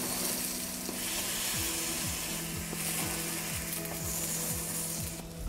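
A Stilton and grape flatbread sizzles in a pan with a steady, even hiss that holds at low volume throughout, with faint regular ticking underneath and no talking.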